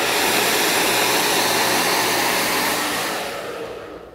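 A hair dryer blow-drying hair gives off a loud, steady whooshing roar close by, holding constant before easing off slightly at the end, with no voices.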